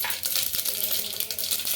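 Spices tempering in hot oil for sambar give a dense, steady sizzle with scattered sharp pops and crackles, close and fairly loud, with no voices.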